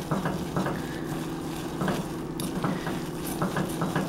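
A spoon continually stirs low carb sunflower brittle in a pan, with repeated scraping strokes over a steady background sizzle, close and fairly loud.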